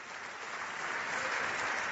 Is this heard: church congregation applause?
yes